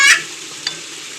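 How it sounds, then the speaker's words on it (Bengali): Water hits spices frying in a pan, a loud hissing burst up front that settles into a softer steady sizzle, with a single brief utensil scrape, close and without speech. "মশলাটা যাতে না পুড়ে যায় দিয়ে দেবো জল।"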